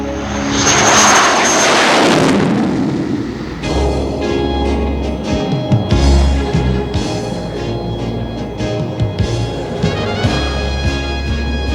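A propeller airplane engine roars loudly at an air show flown by demonstration pilot Bob Hoover, a steady, full drone for the first few seconds, then a shifting, tonal engine note that surges and fades as the plane maneuvers.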